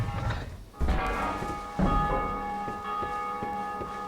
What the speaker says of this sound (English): And we gotta ring the bell.